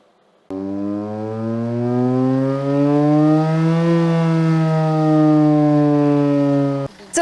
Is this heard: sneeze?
no